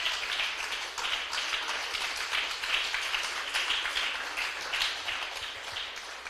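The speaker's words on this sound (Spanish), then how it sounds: "Denle un aplauso una vez más al Señor" Congregation clapping through a Spanish-language church service, a steady, dense patter of many hands with faint voices mixed in, moderately distant and sustained throughout.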